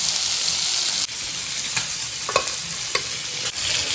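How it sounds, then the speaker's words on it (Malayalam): Food frying in a pan for a Sunday lunch, a steady loud sizzle with occasional scrapes and stirring taps, no talking. "അപ്പോൾ ഇതൊക്കെ ഫ്രൈ ചെയ്യുന്നുണ്ട്."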